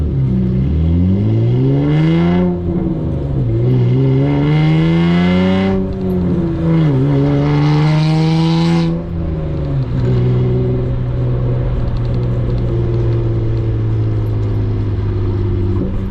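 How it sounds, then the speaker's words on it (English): A V6 Honda Accord with a loud J's Racing exhaust drives hard, its raspy engine note climbing and dropping through several gear changes before settling into a steady droning cruise, loud and close throughout. "This car is so loud. It sounds so good though."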